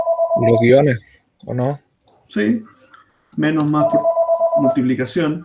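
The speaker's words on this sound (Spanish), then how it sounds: "Disculpen el teléfono ahí." A telephone rings in a classroom during a programming lecture on strings, its electronic tone sounding in two bursts beneath a man's ongoing speech.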